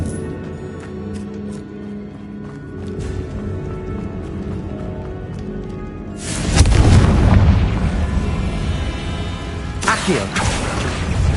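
The Confringo blasting spell goes off in the video game Hogwarts Legacy. A loud booming blast lands about two-thirds of the way in and rumbles on, a second burst follows near the end, and quieter game sounds run before them.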